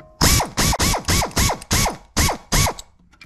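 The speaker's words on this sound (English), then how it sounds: "I wanna get these pivot bolts snug, but not gahunga tight." Ratchet with an extension snugging the pivot bolts on a 1994 gas Club Car DS golf cart: eight quick, close metallic clicking strokes in a steady rhythm, loud and alone.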